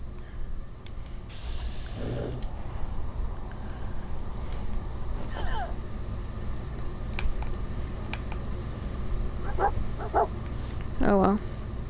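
Dogmeat, the dog companion in Fallout 4, gives several short scattered barks and yips over a steady low game ambience, some faint and some nearer.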